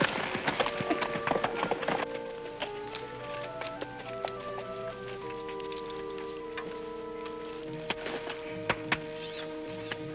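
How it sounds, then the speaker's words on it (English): Slow, irregular clip-clop of horse hooves, with tonal ringing and clinks over a steady ambient bed, no talking. "Mind if we water the horses?"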